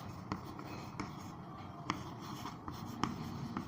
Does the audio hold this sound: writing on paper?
yes